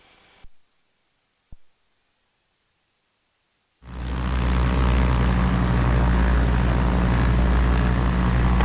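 Radio chatter fades out, then after a silent gap the twin engines of a 2020 Diamond DA62 airplane roar up abruptly and hold a loud, steady propeller drone, heard close from the cockpit.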